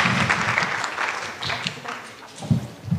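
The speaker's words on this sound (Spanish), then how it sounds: "Recibámosla con un aplauso," Hearty applause from a seated audience at an academic lecture welcomes a speaker, with steady close clapping throughout the short span and a few louder claps near the end.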